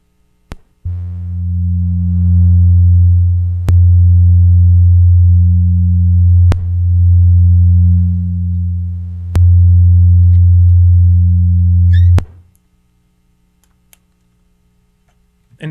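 Geometry data rendered as sound plays as loud, steady low sine tones in long sustained blocks, broken by a few sharp clicks where the tones change, then cutting to near silence.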